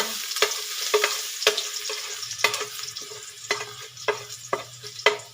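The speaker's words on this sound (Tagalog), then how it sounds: "Siyempre, una yung bawang. Igigisa po muna natin." Garlic sautés in a hot pan for corn soup, a steady crackling sizzle broken by repeated sharp scraping strokes of a utensil stirring it, close up and clear with no talk.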